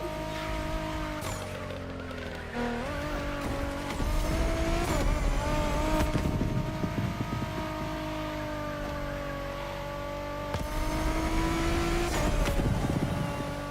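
An LBWK car races in The Crew Motorfest, its engine revving loudly and changing pitch as it accelerates and shifts, with surges of road and tire noise throughout.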